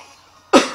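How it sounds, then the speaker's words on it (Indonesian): A single sharp cough close to the microphone, with a smaller second burst right after, from a commentator during a Pokémon VGC match broadcast, following a brief quiet moment. "batuk"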